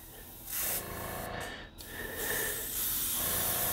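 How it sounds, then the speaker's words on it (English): A spray gun laying down a test spray of paint on a cloth pattern during a model starship build, short hissing bursts that start and stop, fairly faint and close, with a brief gap in the middle. "Now let's give it a little test spray."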